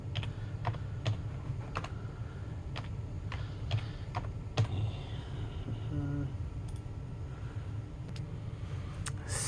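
Quiet, irregular clicking of someone typing on a computer keyboard, bursts of keystrokes with brief pauses, fairly close with a low background hum.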